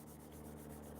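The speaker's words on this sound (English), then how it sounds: "So you can't go wrong with Gator sandpaper." Gator-brand sandpaper rubbing steadily across a surface, a continuous close, quiet abrasive scratching with no talk.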